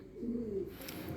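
A Jansen racing pigeon gives a single low, soft coo, close and quiet, lasting under a second over faint background noise.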